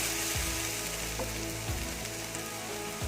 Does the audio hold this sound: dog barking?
no